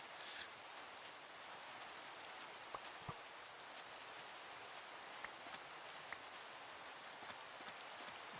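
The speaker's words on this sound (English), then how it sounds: "It just rains here, and I have no idea why." Steady rain falls inside a mining video game, a constant even hiss of drops with a few faint clicks, no voices over it.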